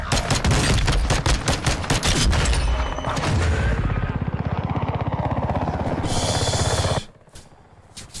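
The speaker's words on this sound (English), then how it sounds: "So many shots." Rapid bursts of automatic gunfire crackle loudly in a Warzone match, dense shots piling over a steady helicopter-like drone, then cutting off abruptly near the end.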